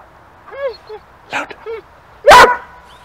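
A dog gives a few short yips and whines, then one loud, sharp bark close by.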